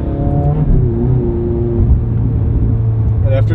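Ferrari F430 engine idling steadily while warming up before a test drive, a continuous close, loud drone with tonal hum, a slight lift in revs near the end.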